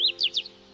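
Three quick bright bird chirps in close succession, clear and fairly loud over a faint steady hum, with no talking.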